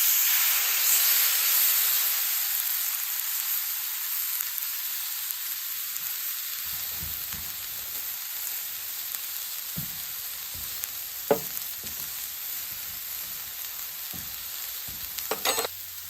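A ribeye steak sears in a hot pan with lard, a loud, steady broadband sizzle that fades slightly over time, broken by occasional pops and brief scraping or handling noises.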